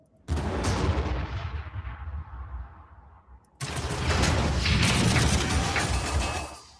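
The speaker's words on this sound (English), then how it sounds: "We're gonna keep letting this tank shoot us." A tank fires in the Warhammer 40k Armageddon video game: a sudden heavy blast with a long decaying rumble, then a second loud burst of gunfire and crashing that sustains for several seconds before tapering.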